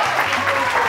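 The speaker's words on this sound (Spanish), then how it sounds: "un aplauso para ella" Studio audience applause on a Spanish TV variety show, a brief dense burst of clapping with voices mixed in.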